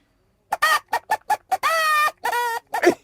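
A toy chicken trumpet blown by mouth gives a run of short, sharp clucks followed by longer drawn-out squawking calls, loud and close, imitating a hen with no talk over it.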